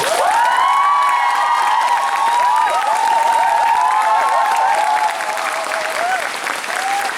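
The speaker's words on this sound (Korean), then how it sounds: "들리실 수 있게 박수 꼭 부탁드릴게요" A musical theatre audience applauds for the backstage staff with loud, sustained, dense clapping, joined by scattered cheers and high whoops that taper slightly toward the end.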